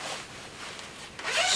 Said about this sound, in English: zip it open